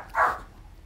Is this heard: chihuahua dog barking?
yes